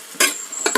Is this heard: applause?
no